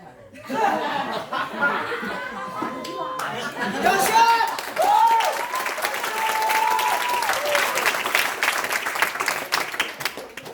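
An audience at an MLM ice-breaking session in Bandung claps amid chatter and chuckles, with laughing voices and a loud, sustained burst of applause that swells midway.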